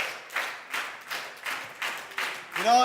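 A group claps in unison with slow, steady beats, about one per half second, before a voice speaks at the end.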